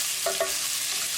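Garlic frying with cumin in hot oil in a pan for a lobster and potato curry, a steady close sizzle with two quick soft stirring scrapes near the start.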